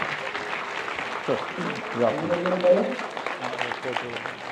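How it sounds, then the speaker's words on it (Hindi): Audience applause at a health seminar, where a therapy kit is handed to an attendee as a gift: steady clapping throughout, partly masked by voices speaking over it. "जोरदार तालियां बजाकर।"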